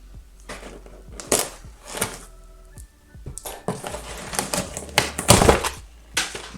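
Packaging of a kendama box is ripped and torn open in a series of sharp, close tearing and crinkling bursts, with paper rustling between them.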